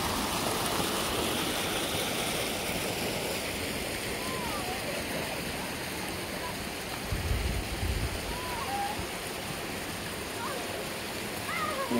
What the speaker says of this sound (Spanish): donde hay piedras hay río. Y el río me encanta.